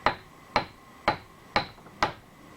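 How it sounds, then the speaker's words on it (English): Five sharp, evenly spaced hammer taps on metal, tapping a tight-fitting part into a hole on an electric motor, about half a second apart, close and clear with a quick ringing decay. "Little tap with the hammer."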